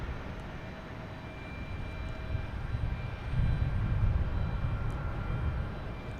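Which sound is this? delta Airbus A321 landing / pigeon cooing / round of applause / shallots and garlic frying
delta Airbus A321 landing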